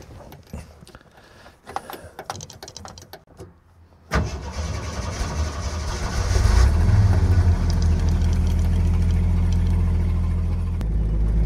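An old rusty car cranks and fires up after a few clicks and clunks, then its engine settles into a loud, steady, close running rumble as the test drive begins.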